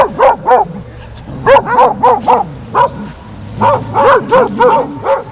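Dogs bark and yip repeatedly in quick bursts at a village campsite in Kapısuyu, Turkey, close by and loud, with some whimpering mixed between the barks.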